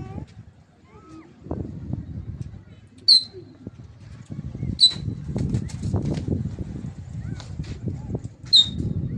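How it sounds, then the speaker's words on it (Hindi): A flock of pigeons flies back home with soft wingbeat flutters and a few sharp chirps, while people talk nearby. "ये देखिए जी कबूतर आ रहे हैं वापस तारिक भाई के कबूतर"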